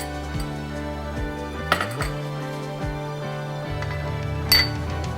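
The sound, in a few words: mixing coconut flour, salt, egg and vinegar in a bowl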